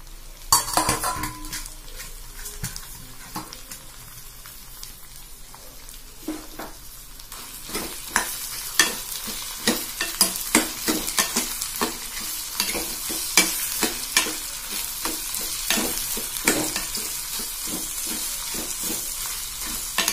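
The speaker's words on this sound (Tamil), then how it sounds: "இப்போ வெங்காயம் நல்லா வதங்கிடுச்சு." Onions sauté in a pan for chutney, a continuous sizzle punctuated by many sharp metallic scrapes and taps of a spoon stirring against the pan, growing busier and more rhythmic.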